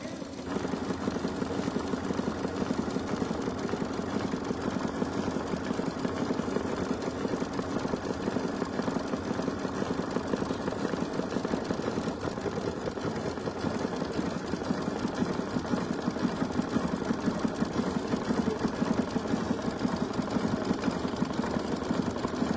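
An embroidery sewing machine stitches a coaster with a steady, rapid mechanical chatter that continues without pause the whole time.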